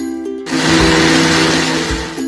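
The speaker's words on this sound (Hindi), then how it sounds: "मिक्सर में पीस लेना है।" A mixer grinder blends a cooked onion-tomato masala for dhaba-style egg curry, a loud steady motor whir with a coarse grinding rush that starts abruptly and runs for about two seconds alone.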